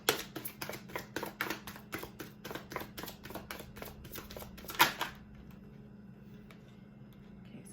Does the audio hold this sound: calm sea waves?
no